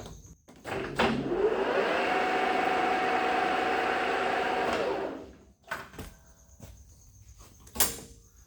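A JFMT 530 x 2000 metal lathe runs steadily at 720 with a loud, even machine drone and whine for about four seconds, then the brake cuts it off abruptly, followed by scattered clunks and a sharp knock in the quiet afterward.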